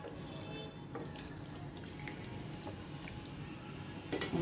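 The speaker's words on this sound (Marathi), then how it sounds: "ते पाणी यामध्ये मी घालून घेते" Water runs and splashes into a metal pan of mushi (shark) fish masala nearby, a steady trickle with small drips and a louder gush near the end.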